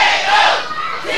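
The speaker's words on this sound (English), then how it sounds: "Listen to this crowd come up for TKO" A professional wrestling crowd roars for a wrestler in a short, loud, sustained burst of massed cheering and shouting that fills the arena.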